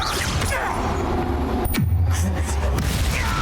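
A Confringo explosion spell cast in the video game Hogwarts Legacy: a single sharp burst partway through, falling into a low rumbling boom that lingers over steady game ambience.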